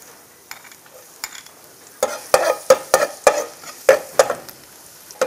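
Garlic sizzles in hot oil in a pan for Vietnamese coconut fried rice while a utensil stirs it, giving close, sharp scraping clacks in an irregular rhythm over a quiet frying hiss, with no speech.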